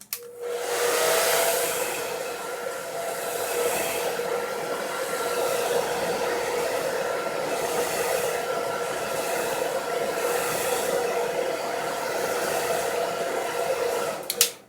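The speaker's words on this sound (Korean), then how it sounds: "여기 사타구니를 드라이기로 말려주세요." A hair dryer blows steadily and loudly at close range, drying the groin area, with a constant whooshing airflow and a faint tonal whine that runs unbroken for about fifteen seconds before clicking off.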